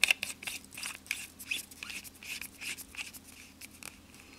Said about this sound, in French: On vient visser notre tank.